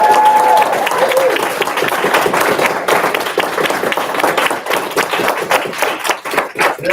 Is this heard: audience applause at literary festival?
yes